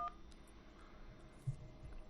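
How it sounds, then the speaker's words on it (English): A phone keypad tone sounds briefly at the start as the 1 key is pressed, followed by a faint low line hum and quiet background noise. "hit the phone number button and then press the number 1."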